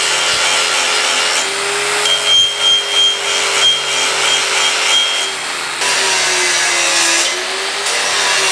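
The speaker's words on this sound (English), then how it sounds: "I'm just starting with the 9-inch grinder here, just a hard stone wheel, absolutely hogging the material off" A 9-inch angle grinder with a hard stone wheel grinds down forged axe steel, a loud, close, sustained abrasive roar whose pitch dips and recovers as the wheel bites under load.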